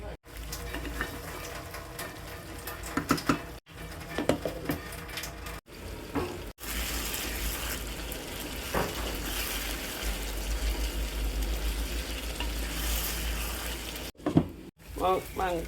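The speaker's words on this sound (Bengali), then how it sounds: "মাংসটা খুব ভালো করে ভেজে নিলাম মশলাটা একটা ভাজা ভাজা গন্ধ বেরিয়েছে" Country chicken with spices frying in a pan, a steady hissing sizzle punctuated by stirring scrapes, with someone talking over parts of it.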